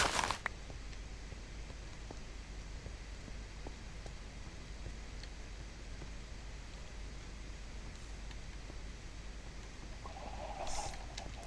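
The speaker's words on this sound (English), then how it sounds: "the sound of the chickens scared the crap out of me" Chickens clucking in the Minecraft modpack FTB Oceanblock, soft scattered calls over a steady hiss of game ambience, with a brighter burst of clucking near the end.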